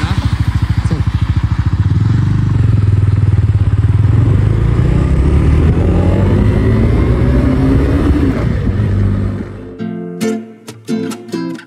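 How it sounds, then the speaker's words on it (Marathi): A new motorcycle on a long highway ride, its engine droning steadily in first gear with wind rush, loud and close, before cutting to brief clattering noises at the end. "बघूया पहिल्या गेअरवरती किती जाते जाऊन ना."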